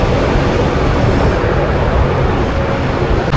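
A loud, steady rumble and roar of an elevated MRT metro train passing close by at Ortigas station in Manila, continuous broadband noise with no voices.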